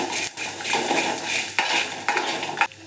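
Curry leaves fry in a pan for a Mangalore-style banana sukka, with a steady close sizzle broken by several sharp scrapes and clinks of a spoon stirring against the metal.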